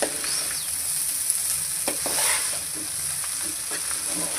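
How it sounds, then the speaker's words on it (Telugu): Rice with salt being stirred for mango pulihora, a steady hissing sizzle with a few soft scraping strokes of the spoon, close and continuous, with no talk. "అన్నంలో వేసి ఇక కలుపుతాను మొత్తం"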